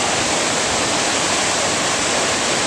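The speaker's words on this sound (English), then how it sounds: "what's the name of this waterfall?" Dry Falls waterfall in Highlands, North Carolina, roars as a loud, steady, unbroken rush of falling water with no other sounds.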